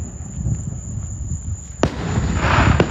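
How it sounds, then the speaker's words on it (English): Fourth of July fireworks bursting right overhead, with a sharp loud bang midway and another crack shortly after, over a rumbling crackle and a steady high electronic whine. "I was right underneath them fireworks"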